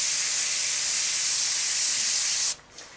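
A Neo-Iwata BCN airbrush sprays golden airbrush fluid at about 40 psi: a loud, steady close-up hiss that runs unbroken for a couple of seconds and then cuts off abruptly, leaving near silence.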